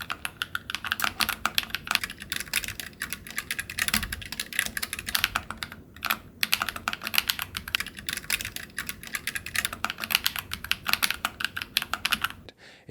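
Steady, fast typing on a NocFree Lite wireless split keyboard with foam and PBT keycaps, a close, continuous patter of soft clacky keystrokes with brief pauses and no talking.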